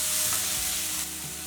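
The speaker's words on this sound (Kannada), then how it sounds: "ಮೀಡಿಯಮ್ ಸೈಜು ಟೊಮೆಟೊ ಮೆತ್ತಗೆ ಫ್ರೈ ಮಾಡ್ಕೊಳ್ಳೋಣ" Medium-sized chopped tomatoes fry gently in about a teaspoon of oil for a chutney, a steady soft sizzle with a faint clink near the start, continuous and close with no voices.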